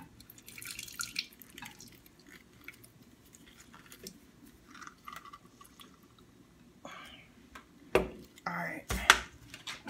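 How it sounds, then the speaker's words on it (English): Juice drips and splatters from half a lemon squeezed by hand into a drink container, close and intermittent, with a few louder wet squirts toward the end and no speech. "Cut this lemon in half. Like that right there. Give it a squeeze."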